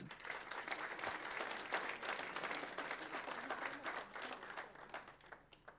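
An audience applauds at a Lithuanian sports journalists' federation awards ceremony, sustained dense clapping heard at a distance and fairly faint, tapering off near the end.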